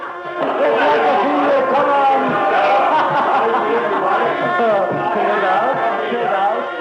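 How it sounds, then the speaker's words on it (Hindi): Crowd chatter at a wedding party, with decorations and dressed-up guests, a dense babble of many voices with occasional chuckles, steady and close throughout. "अरे बड़ी भीड़ भाड़ है।"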